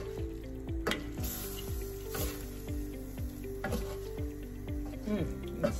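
Ackee and saltfish stirred together in a hot frying pan, a steady sizzle with rhythmic scraping strokes of a spoon across the pan about every half second, with a voice faintly present.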